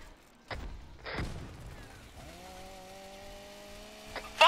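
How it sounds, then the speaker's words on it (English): A chainsaw in a Warhammer 40K video game starts up after a few heavy thuds and booms, then settles into a steady, droning engine whine that runs to the end of the clip. "That's a chainsaw, please take charge!"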